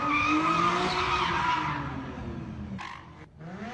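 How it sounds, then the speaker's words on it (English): Cars doing donuts on a city street screech with loud, sustained tire squeal and revving engines. The squeal fades midway and then returns in a short burst. Fireworks are not clearly distinct. "viewer shared this video showing cars doing donuts as fireworks go off"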